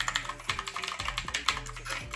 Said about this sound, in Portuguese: esse aqui é um meu teclado da Knup